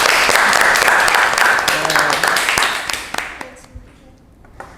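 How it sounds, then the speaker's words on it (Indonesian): A classroom of students claps in warm, scattered applause that builds briefly and then thins out, with a few isolated claps trailing off at the end. "Mari kita beri aplaus untuk diri kalian masing-masing."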